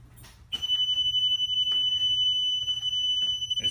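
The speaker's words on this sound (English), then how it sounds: "Excuse the beeping, that's the alarm there." A boat's alarm sounds a steady, loud, high-pitched continuous beep tone near the helm after the boat is switched on, with faint background noise.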